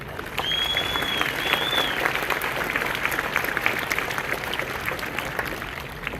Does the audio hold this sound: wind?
no